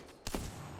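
A single gunshot from a weapon in the Apex Legends shooter game, one sharp close report with a short tail, standing alone without speech.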